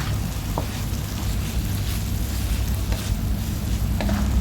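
Clams in chili paste sizzle in a hot pan, a steady frying hiss with occasional scrape and clink of the stirring utensil, near and without talk.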